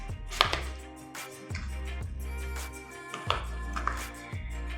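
Two-year-old slime mixed with clay is worked by hand, giving repeated wet squelching presses in an uneven rhythm, close and fairly quiet with no talking.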